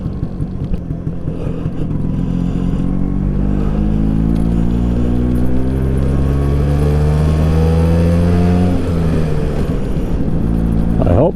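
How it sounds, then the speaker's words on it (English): A 1979 Vespa scooter rides on a road in Ripon, Wisconsin, its small engine running steadily and loud as it climbs through the gears, pitch rising and dropping with each shift, with wind noise behind it. "I hope you can actually hear the Vespa running through the gears here."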